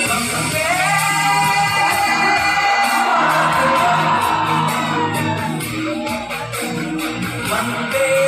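A large crowd at a patriotic stage event shouts together in a loud, sustained roar of many voices, dense and unbroken for the whole stretch.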